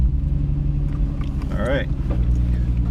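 A Nissan Skyline R33 GT-R V-spec runs with a loud, deep engine rumble that continues steadily throughout, with a brief higher whine in the middle and someone speaking briefly over it.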